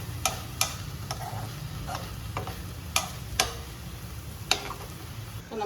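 Ivy gourd thoran cooks in a pan with a faint, steady sizzle, broken by sharp, irregular taps and clicks of a utensil against the pan.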